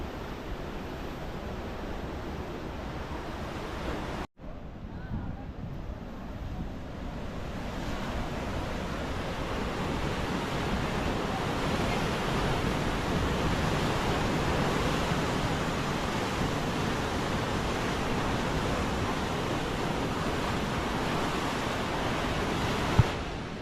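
Strong ocean surf at a Goa beach, a loud continuous wash of breaking waves roaring steadily with wind buffeting the microphone and one brief dropout early on.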